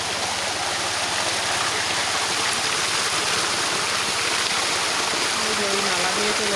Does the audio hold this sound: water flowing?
yes